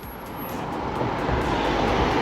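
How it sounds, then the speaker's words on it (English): A drone flies overhead outdoors, giving a steady broadband whirring buzz that is loud and close and swells slightly, with no talking. "Let me land the drone."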